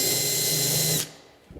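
A power drill countersinks a hoof pad to fit a screw, whirring steadily and up close for about a second before spinning down and stopping.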